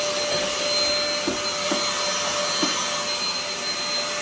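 A vacuum cleaner runs steadily inside a refrigerator with a loud, constant whine, with a few soft bumps as it moves over a surface, and no talking.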